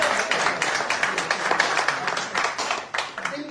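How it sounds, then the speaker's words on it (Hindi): At a Pakistani independence day gathering in Sweden, the audience gives steady applause, many hands clapping in a dense, even wash with faint voices beneath. "इनके लिए भरपूर तालियां"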